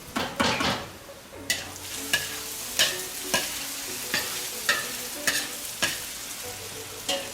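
Chopped green peppers and lamb lungs frying in sunflower oil, a continuous sizzle close up, broken by regular scraping stirs that come about every half second.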